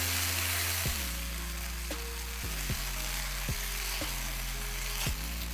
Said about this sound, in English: Give this one quick stir.